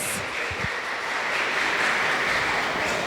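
A church congregation claps together during a Baptist worship service in Castanhal, Pará, producing a dense, steady wash of applause that holds evenly for the whole stretch.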